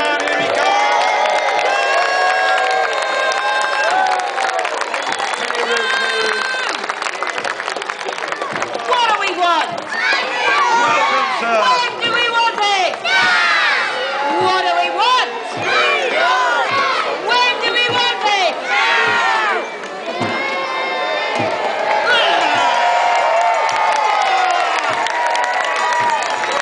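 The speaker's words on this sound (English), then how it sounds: "Another clap for the Green Man." A large outdoor crowd at the Clun Green Man festival cheers, whoops and shouts loudly and continuously in loud overlapping bursts, with voices calling out over the din.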